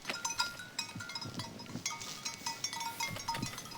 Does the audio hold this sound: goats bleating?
yes